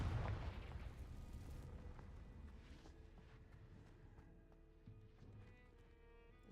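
A Confringo blasting spell exploding in Hogwarts Legacy, a deep boom that hits at once and then rumbles and fades over several seconds, followed by faint scattered debris sounds.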